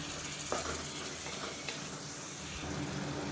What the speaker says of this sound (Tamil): இப்போ இந்த எண்ணெயில் போட்டு வதக்கினா தான் நல்ல ஒரு கலர் கிடைக்கும்